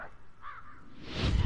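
A crow-like caw from the Tengu bird character Kurama Yashamaru in the Samurai Shodown fighting game, a short harsh call over game music and effects, followed by a swelling whoosh.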